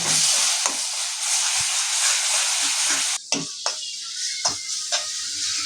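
Kashmiri chili and garlic puree frying in a pan for Kolhapuri-style pav bhaji, a loud dense sizzle that eases as a spoon mixes it, with sharp scrapes and clinks against the pan.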